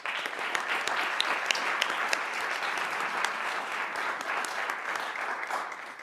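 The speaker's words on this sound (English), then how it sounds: "join me in thanking Mike Shelton with a round of applause, please" A room full of people at a city council meeting claps steadily, a sustained round of applause that holds at the same level throughout.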